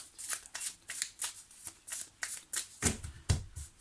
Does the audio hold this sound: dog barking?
no